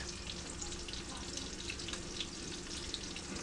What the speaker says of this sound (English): So you want to let this kind of fry a little bit.